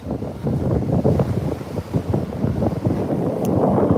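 Ocean waves wash steadily beside a boathouse while gusty wind buffets the microphone, a continuous loud rumbling roar with no voices.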